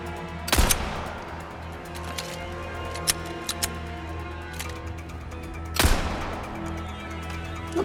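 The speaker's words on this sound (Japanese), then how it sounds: "あんなとこから撃ってる" An enemy shooter's gunfire in Resident Evil 4 remake: two loud, sharp shots several seconds apart over a low ambient hum, with a few fainter clicks and taps between them.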